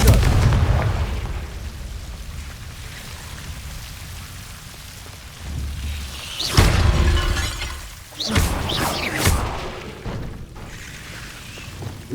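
Confringo fire spell blast in Hogwarts Legacy, a sharp explosive burst followed by a second crackling, shattering impact a couple of seconds later, set against a quiet ambient game background.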